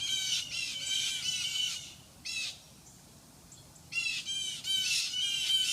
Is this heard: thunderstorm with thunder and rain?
no